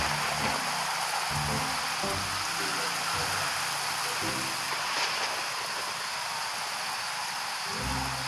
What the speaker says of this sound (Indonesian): Petir, nah ini petir nih tuh.